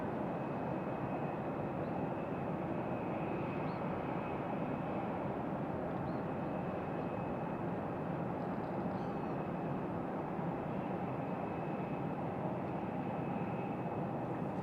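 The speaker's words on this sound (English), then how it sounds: "As we await this Delta to make its way around back here" A Delta airliner taxis at Raleigh-Durham International Airport, giving a steady, fairly distant engine rumble with a faint high whine that holds throughout, with no talking.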